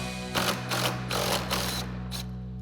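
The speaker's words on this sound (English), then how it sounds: "So we've got our 5mm Allen socket. Pull this bolt out." A 5mm Allen socket works a bolt out of an aluminum roof rack bracket on a Jeep Wrangler JK, making a run of mechanical ratcheting clicks in four short bursts over a steady low hum, with no talking.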